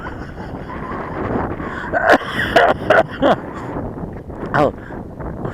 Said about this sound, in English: That's what the wind's like. It's crazy wind.